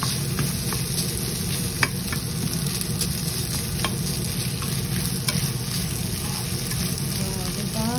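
Leftover rice and ham stir-fried in a pan, with a steady close sizzle and repeated scraping stirs of a utensil throughout, alone without talk.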